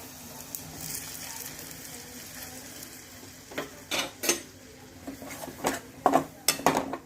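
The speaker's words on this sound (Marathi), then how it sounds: "एक वाटी बेसनपीठ घेतलेलं आहे हे बेसनपीठ आपण भाजून घेणार आहोत" Gram flour (besan) being dry roasted in a pan, a faint background hiss with a spoon scraping and clinking against the pan in irregular bursts, growing busier toward the end.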